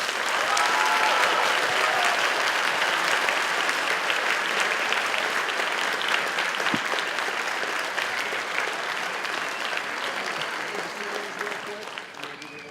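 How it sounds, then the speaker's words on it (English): A high school band concert audience applauds steadily, a dense wash of many hands clapping that holds loud for several seconds before slowly tapering. "Let's give them all a round of applause, please"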